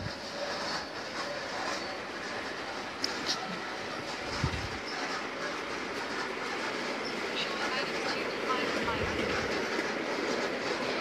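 A G scale model train running on track, a steady faint rolling rumble with light clicking, heard alone at low level throughout.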